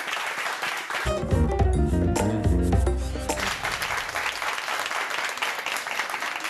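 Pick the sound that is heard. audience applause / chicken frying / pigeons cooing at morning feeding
audience applause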